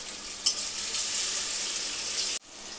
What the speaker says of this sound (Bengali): এই আমসত্ত্বটা প্রথমেই আমি তেলের মধ্যে দিয়ে দেব। দিয়ে আমসত্ত্বটাকে ভালোভাবে নেড়ে নিতে হবে।